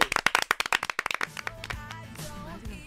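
A studio audience on a Mexican TV entertainment show gives a short burst of brisk, sharp clapping that fades after about a second, giving way to a faint musical sting and background voices.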